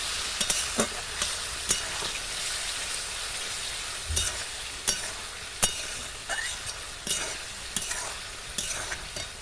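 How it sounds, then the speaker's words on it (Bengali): Chilli chicken with tomato sauce sizzles in a pan while a spatula scrapes and taps the metal in irregular strokes, close and steady, without speech. "খুব ভালো করে কষিয়ে নিতে হবে"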